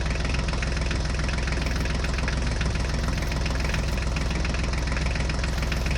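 A toy HMT tractor's motor runs steadily and loudly throughout, a continuous buzzing engine-like drone with no pauses or talk.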